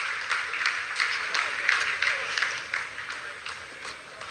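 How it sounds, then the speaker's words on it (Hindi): Scientists applauding after a Chandrayaan-3 landing phase, a steady rhythmic clapping from a crowd that continues throughout, fairly loud and with no talk over it. "जी हाँ, आप इस तालियों के गड़गड़ाहट को सुन सकते हैं"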